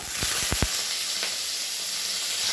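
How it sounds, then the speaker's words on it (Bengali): Fish fat dropped into hot white oil in a wok gives a steady close sizzling hiss, with a few sharp spatters and pops near the start, no voices. "আমার তেল গরম হয়ে গেল, এবার আমি দিয়ে দিচ্ছি মাছের তেলগুলো"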